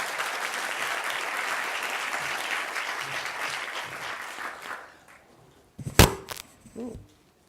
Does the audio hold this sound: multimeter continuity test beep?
no